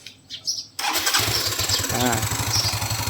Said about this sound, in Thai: อ่าเดี๋ยวลองสตาร์ทดูอีกรอบนะครับ เปิดกุญแจก่อนนะ